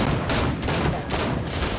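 Gunfire in the Fortnite video game, heard as a dense, loud burst of repeated shots that comes in several surges across the clip, with no talking over it.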